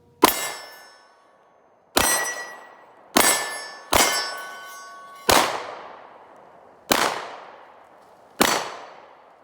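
A 10mm Rock Island Tac Ultra handgun fires seven shots at an uneven pace, each followed by the sharp, ringing clang of a bullet striking a steel target and a short fading echo.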